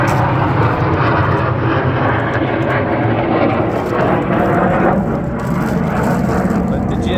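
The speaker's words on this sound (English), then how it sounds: "Let the jets go over here." A jet aircraft flies overhead with a loud, sustained roar that swells and holds for several seconds outdoors, with a voice faintly mixed in beneath the engine noise.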